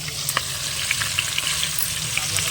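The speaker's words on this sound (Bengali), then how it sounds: "এখানে তেল গরম হয়ে গেছে, পেঁয়াজ কুচি দিচ্ছে, কাঁচা লঙ্কা, পেঁয়াজ" Chopped onions and green chillies hitting hot oil, a loud, dense crackling sizzle with bright spitting pops throughout and light stirring, heard up close with no speech.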